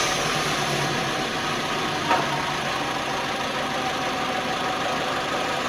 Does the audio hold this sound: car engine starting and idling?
yes